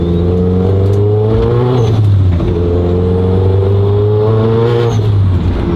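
A Renault Mégane RS built toward 600 hp accelerates hard on a wet road on worn tyres, its loud, close engine drone rising in pitch and dipping briefly as the wheels lose grip and spin.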